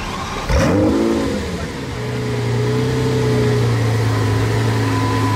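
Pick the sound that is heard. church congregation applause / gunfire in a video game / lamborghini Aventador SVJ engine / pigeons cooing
lamborghini Aventador SVJ engine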